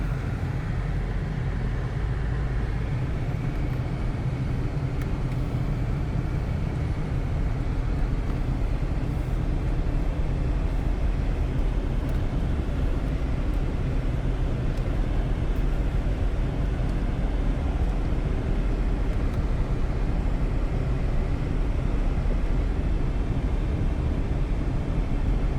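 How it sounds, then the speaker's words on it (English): A 1999 Cadillac Eldorado coupe with its head bolts redone, engine running: a steady, low, even rumble that holds unchanged for about twenty-five seconds, with no voices over it. "Sounds like a Cadillac."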